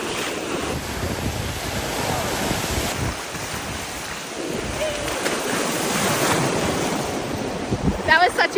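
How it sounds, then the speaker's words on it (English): Ocean waves and surf wash steadily along a warm, busy beach, a broad rushing hiss mixed with gusty wind buffeting the microphone, swelling slightly toward the end with a few brief thumps. "Let's go in the ocean."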